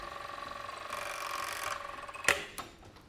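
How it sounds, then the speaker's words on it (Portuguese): Sewing machine stitching a juvenile bra cup, a fast, even mechanical whir that runs steadily, then stops with a couple of sharp clicks near the end. "E aí aqui eu só dou sequência na costura."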